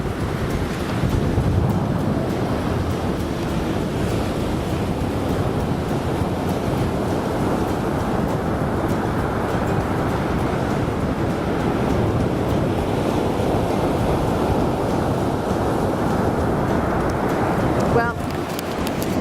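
Ocean surf at a beach on a Florida trip, a dense continuous roar of breaking waves mixed with wind buffeting the microphone, steady and loud throughout.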